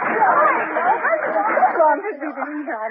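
A dense crowd of women chattering all at once, overlapping voices forming a busy, excited babble that stays loud throughout.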